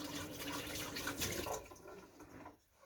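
Tap water runs into a sink as a coffee maker part is rinsed, a steady close splashing wash that fades out near the end.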